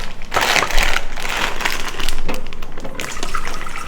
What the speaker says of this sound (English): pour in 2 cups of water